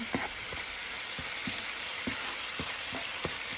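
Elephant yam pieces frying in a pan, a constant hissing sizzle with soft, regular stirring taps and scrapes spaced roughly every half second.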